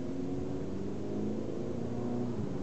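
A 2014 VW Jetta S with a 2.0L engine pulls away from a stop, its engine droning up in pitch and then dropping as a paddle-shifted gear change comes, steady and moderately loud from inside the car.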